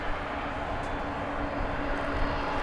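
Aircraft engines drone steadily at DFW Airport at night while an MD-11 waits for pushback, a constant, moderately loud hum heard at a distance with no clear voices.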